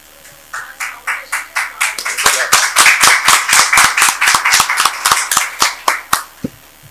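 Steady clapping from a small group at a Maranhão government press conference on Covid-19 actions, a run of distinct close claps about seven seconds long that swells in the middle and thins out toward the end.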